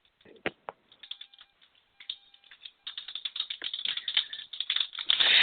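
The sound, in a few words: fast typing on a keyboard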